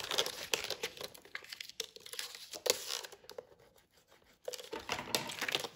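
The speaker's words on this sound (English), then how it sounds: "we're gonna fold on the crease lines. Again, take your bone folder, give it a good crease." Stiff clear acetate sheet folded along scored crease lines and pressed with a bone folder, giving close, crisp crinkling and scraping bursts with short pauses between strokes.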